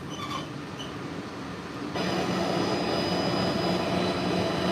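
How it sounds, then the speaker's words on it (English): Walt Disney World's Monorail Blue at Magic Kingdom glides along with a steady mechanical rumble and hum that swells noticeably louder about two seconds in, then holds evenly, with no voices. "welcome aboard Monorail Blue"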